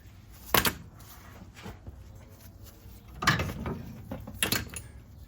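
A hand ratchet clicks in short bursts while working a 9/16 inch nut to release the sway bar on a 1963 Ford Falcon front suspension. Several close, sharp metallic ratcheting and clunking sounds come in separate clusters.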